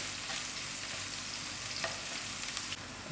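Onions frying in a pan for a shepherd's pie, a steady close sizzle with light stirring scrapes running throughout, no talk.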